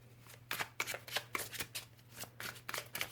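Tarot and oracle cards are shuffled in a quiet room, producing repeated soft riffling and snapping bursts alone, with a faint steady hum running underneath.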